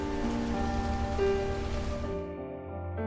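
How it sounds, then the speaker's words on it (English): Rain falls as a sound effect in a steady, continuous wash mixed with a sustained tonal background, fading out in its final second. "It was then I realized, for the first time, that it had started to rain."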